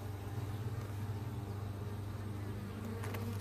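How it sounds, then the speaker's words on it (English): Honeybees buzz steadily at an opened hive during an inspection, a dense, continuous drone close by with no talk over it. "we will button Lily Hive back up"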